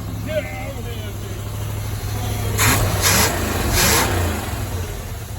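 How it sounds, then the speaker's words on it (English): A revived 1978 Corvette's engine runs with no belt fitted, holding a rough idle and then revving three times in quick bursts, loud and close, with people talking nearby. "Jacob, your car runs."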